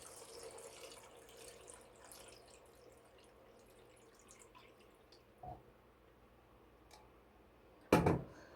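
Water pours from a cup into a pot of pork ribs being cooked at home, a soft trickling splash that fades out, then a brief knock and a sharp clatter near the end, all close and without speech.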